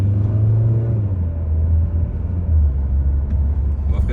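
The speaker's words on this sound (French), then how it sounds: "on va faire une petite accélération un petit peu aussi pour voir ce que ça donne" A Volvo XC40 D3 diesel car accelerating on the road, with a loud, steady low engine drone and a tone that shifts as the revs change.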